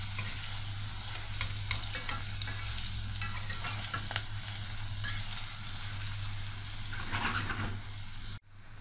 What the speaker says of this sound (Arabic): احنا بنسخن الحلة الاول شوية عشان خاطر لما نحط الزيت والبصل تبقى سخنة